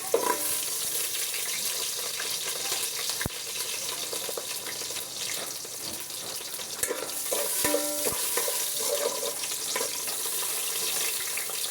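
Garlic frying in a pan, a soft continuous sizzle with scattered clinks and stirring scrapes, fairly quiet and close, without talk.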